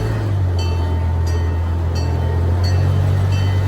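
Zoo safari train at the Toledo Zoo rolling steadily with a constant low rumble and periodic clicks of wheels over rail joints, loud and close from on board.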